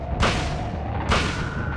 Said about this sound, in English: So now I'm just kind of pumping some rounds into it, seeing what that does.